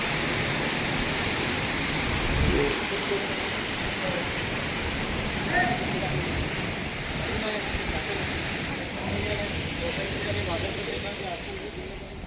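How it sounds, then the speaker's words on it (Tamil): Water pours from the mouth of a Nandi statue at a Hindu temple in Abu Dhabi, a continuous broad splashing rush that holds steady throughout, with faint voices in the background. "நந்தி வாயிலிருந்து வாட்டர் வருது பாருங்களேன்"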